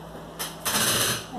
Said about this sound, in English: I apologize for the noise from the chair.